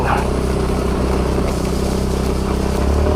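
Motorcycles ride fast on a road in Naujan, Oriental Mindoro after a storm, heard as a close, continuous engine drone with a steady low hum throughout and no talk over it.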